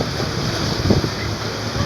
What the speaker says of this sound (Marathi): लाटा खूप जोरात मारत आहेत समुद्राच्या,